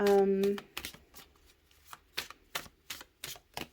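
Oracle cards from an Earth Alchemy deck riffled and shuffled by hand in a run of crisp, papery bursts, starting just after a short voice at the start.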